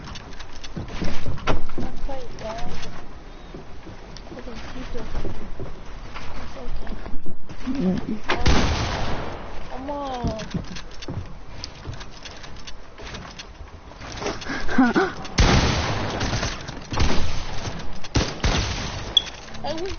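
Bursts of gunfire in a shooter video game ring out repeatedly amid busy game noise, with loud sharp volleys in the middle and near the end while players talk over them.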